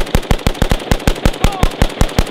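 An AK-47 rifle fires a rapid string of about fourteen loud, sharp reports in even rhythm, recorded close during an endurance test in which the rifle slam-fires.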